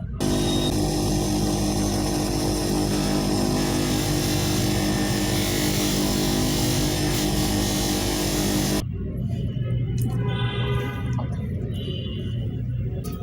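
A dental polishing lathe runs steadily on a partial denture, a continuous loud whirring motor tone for about nine seconds, then stopping and leaving quieter bench noise and faint clatter.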